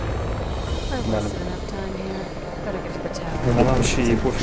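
Helicopter in the video game Resident Evil 6, a steady loud rotor drone running throughout under continuous talking.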